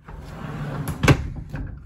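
A cabinet door closing inside a Tiffin Wayfarer motorhome gives a single sharp wooden clack at mid-clip, preceded by softer handling knocks and followed by a faint second tap, close and alone without talk.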